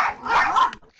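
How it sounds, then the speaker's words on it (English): Several dogs bark sharply at their own reflection in the glass of a storm door indoors, a close, loud burst of overlapping barks and yips that breaks off suddenly. "That they like to look at themselves and they bark at it."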